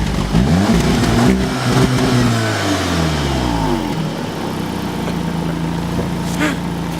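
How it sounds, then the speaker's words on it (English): A 2018 Volkswagen Golf R starting up through its quad-tip exhaust: a loud burst of revving that rises and falls, then settles into a steady idle, with no talk. "One of the most popular features of the 2018 Golf R is just the way she sounds when she starts up, thanks to the fully functional quad-tip exhausts."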